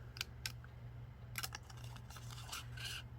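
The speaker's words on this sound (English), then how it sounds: "We're gonna cut up on the score line" Paper being cut along a score line with small craft scissors for a mini house memorydex: a few faint, close snips, sparse and irregular, over a low steady hum.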